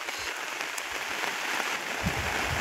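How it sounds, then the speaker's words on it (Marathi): Steady rain falls on village farmland with a farm pond, pattering in a constant hiss, with occasional heavier drops tapping nearby. "पाऊस पण भरपूर आलाय पहा"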